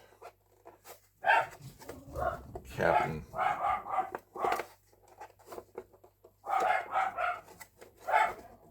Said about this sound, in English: the dogs are losing their minds over what I don't know yet